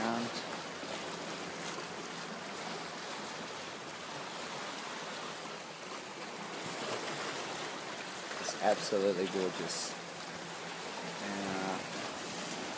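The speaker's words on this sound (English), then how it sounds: "I love the sound of the ocean." Ocean waves wash onto the shore as a soft, steady hiss of surf along a clear-water coast, faint and continuous, with a person talking quietly over it.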